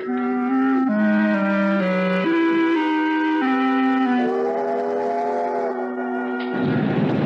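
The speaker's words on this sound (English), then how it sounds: "When the train pulled in next day, it wasn't hard to spot Miss Chalmers." A train pulls in for a radio drama effect, its multi-tone horn or whistle sounding in long sustained chords that shift pitch several times, loud and close, ending in a burst of hissing noise.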